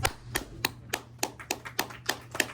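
Audience at a Bronx community board general meeting clapping in slow, evenly spaced claps, about ten across the stretch, fairly close over a low steady hum, with no talking.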